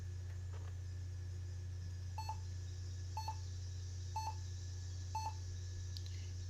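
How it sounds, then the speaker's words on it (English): Four short, evenly spaced error beeps from an HP DV6000 laptop at power-on, coming about once a second over a steady fan-like hum. "And we get a couple of beeps there."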